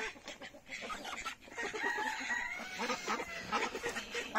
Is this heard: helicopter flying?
no